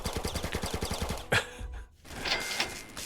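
Rapid automatic gunfire from the video game Living Battle, a fast rhythmic burst of shots that stops abruptly, followed by a brief lull and more muffled game noise.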